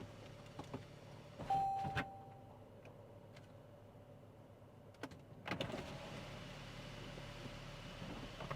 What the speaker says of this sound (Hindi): इस एक बटन को प्रेस करिए और सारी विंडोज़ ड्रॉप हो जाएंगी